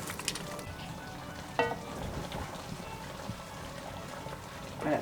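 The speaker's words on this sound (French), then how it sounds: "J'ajoute le vin blanc. Je vais remuer bien." White wine goes into a simmering veal blanquette and gets stirred, giving a steady soft sizzle and bubbling with occasional spoon scrapes and liquid splashes, fairly close and without talk.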